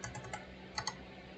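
Quick bursts of computer keyboard typing, a few keystrokes in a short run, then a pause and two more sharp taps, close and clear.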